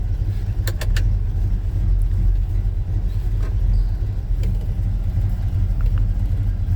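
A 1984 Chevy C10 pickup truck engine idles with a steady low rumble that holds throughout, with a few faint clicks and ticks above it and no talking.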